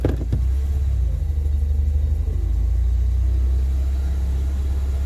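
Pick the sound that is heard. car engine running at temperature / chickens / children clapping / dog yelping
car engine running at temperature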